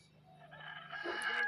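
At a quail and chicken farm, a rooster crows once nearby, rising from a faint start to a louder, strained call, with no voices present.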